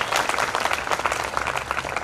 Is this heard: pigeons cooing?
no